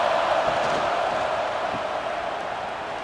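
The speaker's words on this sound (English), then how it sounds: "wow, listen to this crowd noise. This stadium is vibrating." Stadium crowd roar from the college football video game CFB 26 during an Auburn vs Texas A&M matchup: a loud, steady wall of cheering and noise that fades slightly toward the end, with no talking.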